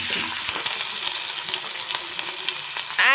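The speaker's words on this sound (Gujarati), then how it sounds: "હવે એને હું ગોલ્ડન બ્રાઉન સુધી કૂક કરી લઈશ" Ginger paste and hot green chillies fry in oil toward golden brown, giving a steady close sizzle with small crackles and occasional stirring scrapes, with no talk.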